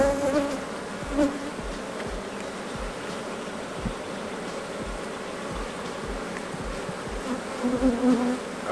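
Agitated honeybees swarm around an open hive during an inspection, a dense continuous buzz with individual bees droning close by, over soft rustling and handling noises.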